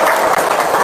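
Audience in an Indonesian seminar-style talk applauding, a dense, steady wash of clapping that fills the short moment at close, loud level without a break.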